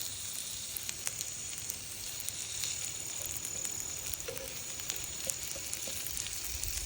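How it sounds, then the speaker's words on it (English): Pork ribeye steak sizzles on a grid over an open fire, giving a steady hiss of frying with scattered sharp pops and crackles at low volume and no talking. "Just a nice toast on the steak, on the pork ribeye."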